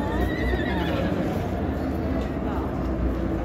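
A horse whinnies amid steady outdoor noise and hoof clatter at the Feria de San Marcos fair, with people talking nearby.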